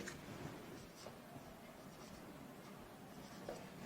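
Soft, continuous scratching of writing on a board during a maths lesson, with quiet, steady strokes close by and no voice over it.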